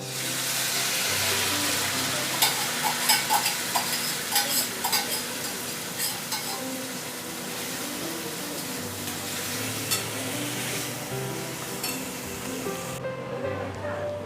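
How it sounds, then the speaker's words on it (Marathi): Loud, continuous sizzling of jackfruit frying in hot oil, a dense hissing roar with faint clinks and stirring scrapes throughout. "आता याच तेलामध्ये ही भाजी आपण घालतो आहोत"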